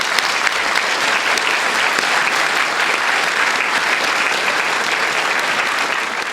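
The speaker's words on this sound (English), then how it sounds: "give them a round of applause" Loud, dense audience applause greets two guests walking onto a stage for an interview, holding at a constant level with no talk over it.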